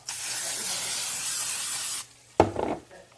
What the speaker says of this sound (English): I'm just gonna spray this pan with some Pam.